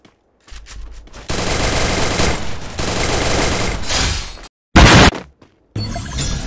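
Sustained automatic gunfire in a shooter video game, loud and dense, running in long bursts with a brief gap and a sharp crashing burst near the end.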